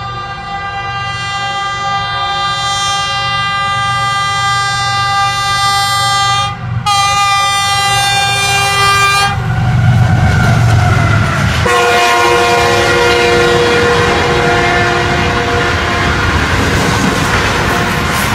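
The Jinnah Express races through a railway station to overtake the Tezgam, sounding a long, loud, sustained horn blast that gives way to a close, roaring rush of wagons thundering past, with no voices.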